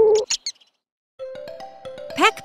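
Playful cartoon owl call in a children's animation, a few short bright chirps, a pause, then a sustained warbling hoot rising into a squeaky flourish, close and clear.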